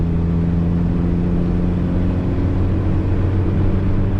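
A truck builds speed toward about 45 mph, its engine a steady, continuous drone with road and wind rumble, loud and close throughout with no talking.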